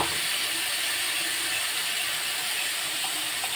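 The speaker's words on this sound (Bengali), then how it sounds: "तेल गरम হয়ে গেছে, আমি এখন দিয়ে দেব পেস্ট করা সরষে আর কাঁচা লঙ্কা।" Mustard paste and green chillies hit hot oil in a pan, a steady, bright sizzling hiss that stays even and loud throughout with no talking.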